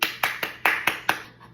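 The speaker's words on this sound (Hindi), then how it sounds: "आपकी जोरदार तालियों में तशरीफ लाती हैं फलावरिया बीबी।" Six sharp, evenly spaced claps ring out in quick succession, crisp and close, with no talking.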